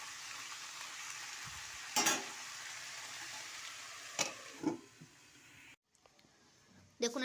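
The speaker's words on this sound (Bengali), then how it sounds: "সবজিগুলোকে ভেজে নিচ্ছি।" Vegetables frying in white oil in a wok, salted and mixed for village-style fried rice, make a low steady sizzle broken by a few loud clattering stirs and a brief near-silent gap.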